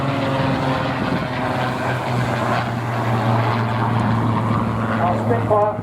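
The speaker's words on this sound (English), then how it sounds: "Our Spitfire Mark 19 saw active service from January 1945." Supermarine Spitfire Mark 19 propeller fighter flying at the Blackpool Air Show, a loud steady engine drone with a throbbing low tone, heard under an announcer's commentary.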